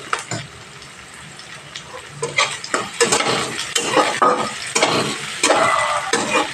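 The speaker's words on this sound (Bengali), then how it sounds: "এইভাবে পেঁয়াজটা একটু ভেজে নিতে হবে" Sliced onion frying with a few slit green chillies in a pan over a medium flame, a steady close sizzle broken by spoon scrapes and stirring clatter that grow louder toward the end.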